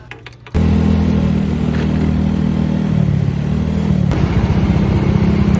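A Yamaha Mio scooter engine starts up abruptly and then runs steadily at close range, a loud continuous drone with a slight dip in pitch partway through and no talk over it.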